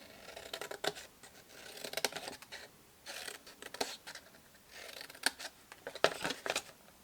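Scissors snip through patterned paper for a hand-stamped box, making quiet, close crisp cuts in irregular clusters with short pauses between them.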